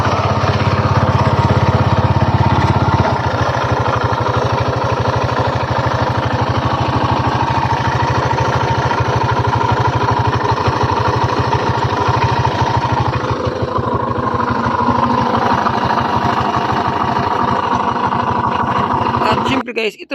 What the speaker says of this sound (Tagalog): parinig ko na sa inyo ang unang tunog ng kanyang makina